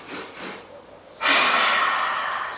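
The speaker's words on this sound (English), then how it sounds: "3 little sniffs in through the nose." A child-style bunny breath yoga exercise: quick little sniffs in through the nose, followed by a long, loud breathy exhale sigh, close to the microphone, no talking.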